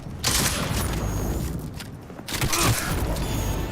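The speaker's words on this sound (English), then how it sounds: "you are using a mag-accelerated shotgun" Mag-accelerated shotgun blasts in a video game, two loud bursts of gunfire with sharp crackling tails over a busy backdrop of game noise.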